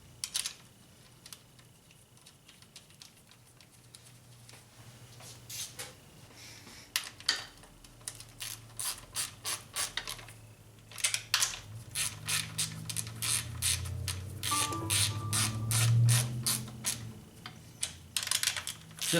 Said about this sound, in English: Alright, we'll get these nuts back on.